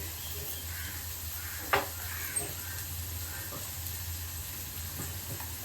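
Onions sauté with salt in a pan for a mutton bone soup, giving a faint, steady sizzle broken by a few soft clicks of stirring, heard close with no talking.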